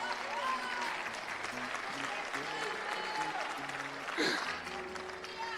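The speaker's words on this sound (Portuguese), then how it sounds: "Uma salva de palmas para Jesus." A church congregation applauds during a sermon, with soft sustained clapping mixed with crowd murmur and voices, and a brief louder swell toward the end.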